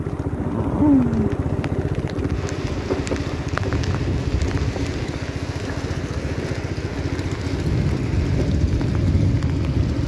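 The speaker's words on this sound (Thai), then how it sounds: "เดี๋ยวนี้ฝนยังตกกึบอยู่" Heavy rain pours steadily during a flood in Laos, a dense continuous hiss and patter close by, with a low rumble and wind buffeting underneath throughout.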